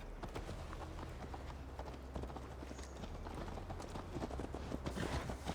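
Horse hoofbeats clip-clop steadily through the entire stretch in Assassin's Creed Valhalla, a rhythmic galloping ride under low background ambience, growing a little louder toward the end.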